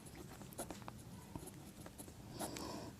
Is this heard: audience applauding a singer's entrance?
no